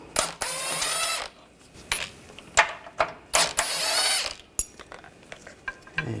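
A ratchet fitted with a 13mm socket backs out aftermarket sway bar bracket bolts on a 2015-2020 Cadillac Escalade, giving bursts of rapid clicking interrupted by short metallic knocks and pauses, close by with no talking.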